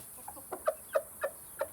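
A rooster gives a string of short clucking food calls, five or six evenly spaced notes close by, summoning hens to feed it has found; the calls sound alone without talk.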